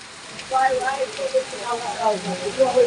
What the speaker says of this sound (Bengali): কি পরিমাণ বৃষ্টি হচ্ছে ও মাই গড